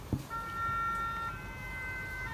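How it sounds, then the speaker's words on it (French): A distant emergency siren holds a steady high wail over low traffic rumble, after a brief thump at the start. "Ah, ça faisait longtemps qu'on n'avait pas eu les sirènes."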